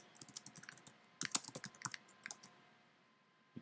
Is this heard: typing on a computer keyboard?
yes